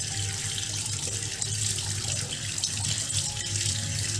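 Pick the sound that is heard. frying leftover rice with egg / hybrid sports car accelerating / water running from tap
water running from tap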